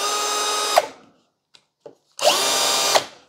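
A Denali 20V cordless drill whirs loudly at high speed in two bursts, each spooling down, separated by a quiet gap with faint clicks.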